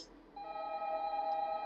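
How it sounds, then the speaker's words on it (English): A telephone rings in the horror video game Five Nights at Candy's 2, a steady electronic ring tone that starts after a brief pause and holds on clearly and fairly close. "Yeah, I can hear the phone there."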